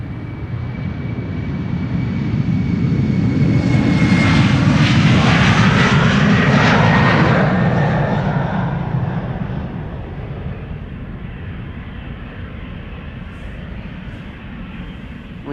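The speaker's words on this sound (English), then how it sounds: "We have another Embraer 190 that is taking off" An Embraer 190 jet takes off at Amsterdam Schiphol, its engine roar swelling loud and close to a peak with a whining sweep as it passes, then fading into a distant rumble.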